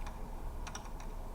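A computer keyboard clatters as Python code is typed, with a brief burst of close, crisp keystrokes in quick succession.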